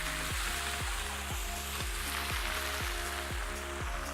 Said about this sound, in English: So now we can go in with the Prosecco that we're using.